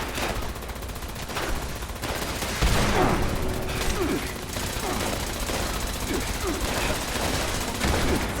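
Rapid bursts of gunfire fill a Fallout 76 fight, with repeated shots and sustained automatic fire running dense and loud over continuous game noise throughout.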